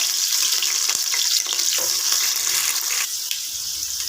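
Green chillies and onions sizzle and crackle in hot oil in a pan, a loud bright frying hiss that runs throughout with small pops and shifts.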